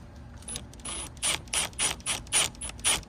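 Screws being driven back into a tail light housing on a 2015 Ford Transit Connect, a close run of about seven quick ratcheting clicks in a steady rhythm, with no talk.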